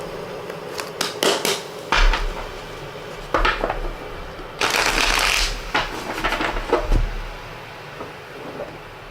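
Tarot cards being shuffled by hand, giving a run of close, crisp riffling and slapping bursts with brief pauses between them, followed by a longer dense flurry of shuffling. No voices.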